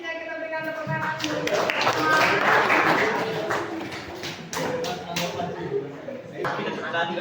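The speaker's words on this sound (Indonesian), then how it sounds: "kita berikan tepuk tangan" Audience applause at an Indonesian teacher-training class session, a dense wash of many hands clapping steadily for several seconds at moderate loudness, fading slightly toward the end, with voices mixed in.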